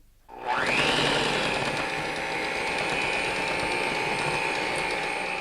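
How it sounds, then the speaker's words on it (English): Electric mixer whirring steadily at speed while sugar is added a little at a time for key lime white chocolate chip cookie dough, starting abruptly and holding a loud, even drone with faint scraping. "I'm gonna put this in here gradually while the mixer is on"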